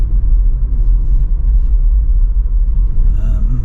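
A Peugeot 208 electric car driving in sport mode gives a steady, loud low rumble of motor and road noise, close and continuous, with faint high whine creeping in near the end.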